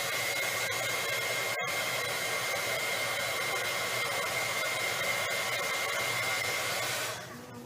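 A hair dryer blows steadily and close by, drying paint on a craft project. Its loud, even whir runs almost the whole time, with one brief cut-out, before it winds down at the end.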